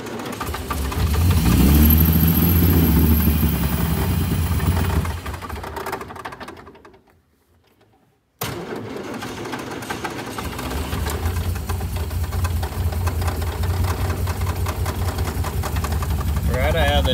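A BT7 small engine idles on its own after starter fluid, choke pulled slightly out, a steady mid-pitched putter that runs strongly, dips to near silence for about two seconds, then settles back into an even idle.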